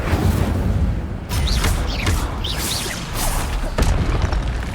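Fire spell cast in the Hogwarts Legacy video game on PS5, a loud sustained roaring burst with whooshing swells and crackling bursts running throughout.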